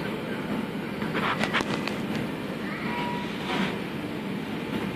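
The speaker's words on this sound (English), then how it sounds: "The SkyTrain is approaching." Changi Airport SkyTrain approaching a station platform, a steady mid-level rumble with faint rail clatter and brief higher squeals throughout, and an announcement-like voice present underneath.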